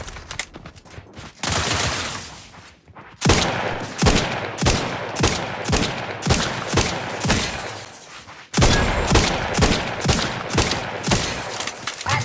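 Video game gunfire rattles loudly in sustained automatic bursts, with dense rapid shots broken by brief pauses between volleys. No voices are heard.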